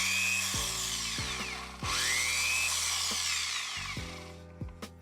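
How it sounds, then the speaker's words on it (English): The motor of a disassembled tufting gun runs on a test in several start-stop bursts, a close mechanical whir with rising and falling pitch, and no one speaks. "let's go ahead and test out the motor"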